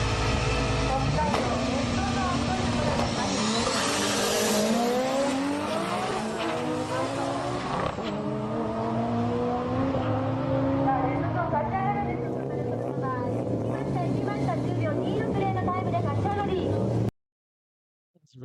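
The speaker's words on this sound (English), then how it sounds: "Here's another red zone car running a T88 34D turbo." A red drag racing car with a big T88 34D turbo on a 2-litre engine runs at a Sendai JDM drag event, its loud engine note rising and shifting through gears with turbo whine before cutting off abruptly near the end, while a voice talks over it.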